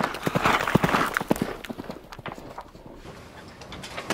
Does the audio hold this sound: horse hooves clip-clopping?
yes